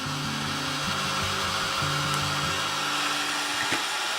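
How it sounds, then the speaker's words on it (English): A steady, close whirring hum of a handheld heat dryer blowing continuously to dry wet watercolor paper, with a slight wavering drone and no talking. "So let's grab the dryer. I'm gonna dry this up."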